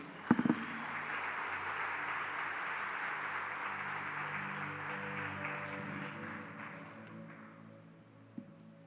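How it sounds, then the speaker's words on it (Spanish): A church congregation applauds during a sermon, a broad, steady wash of clapping that starts with a sharp burst, holds for several seconds and slowly fades, with faint tones underneath. "Denle un aplauso al Señor."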